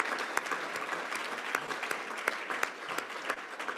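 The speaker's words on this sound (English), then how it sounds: "Let's give them all a round of applause." An audience at a Rotary event claps for the prize winners, a broad sustained round of applause with a few louder, closer individual claps standing out from the crowd.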